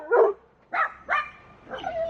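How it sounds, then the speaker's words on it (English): A dog barks four times at close range, loud and clear in a quiet room, the barks coming in an uneven rhythm with short pauses between them. "silly dog"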